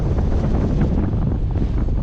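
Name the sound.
wind blowing on microphone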